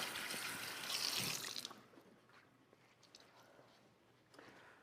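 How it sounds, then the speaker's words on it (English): Hands washed under a running kitchen tap while cooking halibut: a bright rush of splashing water for about two seconds, then the flow stops and only faint drips and handling noises remain, close and moderately quiet. "let me just wash my hands"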